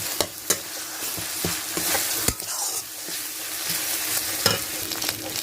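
Ginger and garlic paste frying in a pan during a picnic cook-out, with a steady close sizzle and several sharp scrapes and clacks of stirring.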